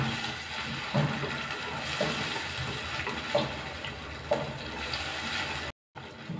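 Horse gram cooking water pours into a pot of kollu kulambu curry, a steady soft watery rush running for several seconds, with a few light clinks and a brief cutoff near the end.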